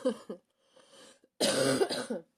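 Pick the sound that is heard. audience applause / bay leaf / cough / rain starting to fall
cough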